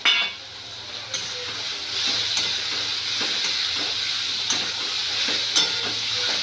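Bombil fish and cut potato pieces stirred with masala in a hot pan, a steady sizzle of frying in oil running throughout with scraping stir strokes and occasional light utensil clinks, close and fairly loud.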